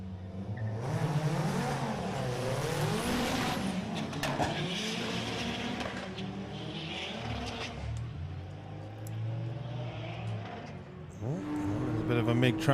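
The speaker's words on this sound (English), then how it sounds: "Nick Foot out for his first run with the Audi TT." A remapped Audi TT makes a drag racing run at Santa Pod Raceway: sustained engine roar with revving, gear changes and a tire squeal near the end. A commentator talks over it.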